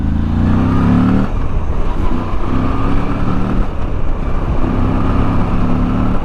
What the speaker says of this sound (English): This is actually my first time on a Moto Guzzi riding one, and these things definitely have a lot of torque.